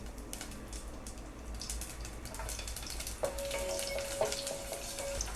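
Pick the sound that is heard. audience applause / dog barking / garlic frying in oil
garlic frying in oil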